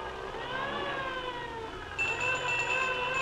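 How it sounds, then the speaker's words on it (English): A cartoon fire engine alarm siren wails steadily, its pitch gliding, then a brighter ringing alarm tone joins partway through, fairly loud with no voices. "Suddenly, an alarm rang."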